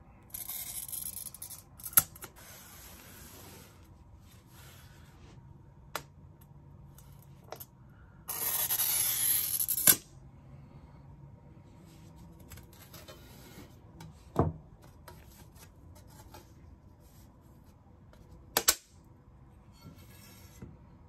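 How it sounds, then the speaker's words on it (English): A pencil-grip glass cutter scores a circle into a sheet of glass, giving one sustained scratchy hiss a couple of seconds long among sparse, faint clicks and taps in a quiet room. "start scoring from the edge of the circle"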